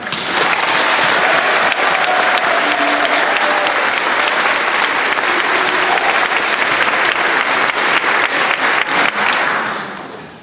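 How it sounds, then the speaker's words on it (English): Sustained applause from a large crowd at a school graduation ceremony, dense and steady clapping for about ten seconds before tapering off at the end. "give a round of applause for the seniors right here"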